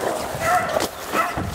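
Hunting dogs from a kennel give two short bursts of yelping and baying at a moderate distance in a swamp, with faint outdoor background noise between them.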